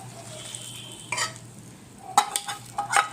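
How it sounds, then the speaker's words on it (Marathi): A hot tadka is poured over sabudana chaat and stirred in: a faint low hiss, then a few short bursts of sizzling and spoon scraping against the bowl, close and intermittent, with no talking. "हा तडका यामध्ये टाकायचा आहे।"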